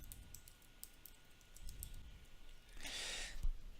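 Keys on a computer keyboard clatter in quick irregular taps while text is typed for a word-processing document, closing with a louder burst of clicks near the end.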